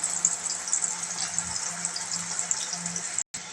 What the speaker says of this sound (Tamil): இதில் இப்போ எண்ணெய் ஹீட் ஆகிட்டு இப்போ இந்த பருப்பை உள்ளே போடும்போது லேசாக பொங்கி வரும்